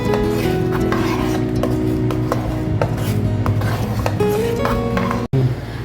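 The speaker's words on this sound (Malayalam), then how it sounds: "ഇനി നന്നായിട്ട് അതിനൊന്ന് യോജിപ്പിച്ചു കൊടുക്കാം." A spoon stirs thick Palada Pradhaman payasam in a metal pot, giving repeated scraping and clinking strokes against a steady humming background, with a brief dropout near the end.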